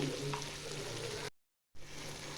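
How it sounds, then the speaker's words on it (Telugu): Spices and coriander powder being stirred into a ridge gourd and moong dal curry in a hot pan, a steady close sizzle cut by a brief silence before the frying resumes. "ధనియాల పొడి ఒక స్పూన్ వేసుకొని కలుపుకుందాము"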